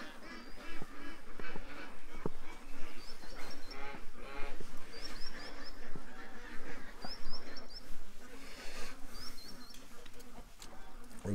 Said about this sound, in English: There's Canada geese on the lake.